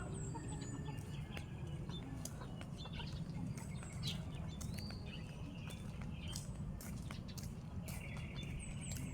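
Chickens cluck and chirp intermittently against a quiet outdoor background with soft pattering, the birds sounding somewhat distant.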